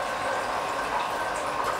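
A Hurom slow juicer pressing watermelon, with juice pouring out the front: a steady, dense liquid rush that stays constant and close, with no speech.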